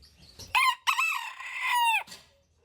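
A rooster crows loudly and close by, one long cock-a-doodle-doo with a brief break, then quiet.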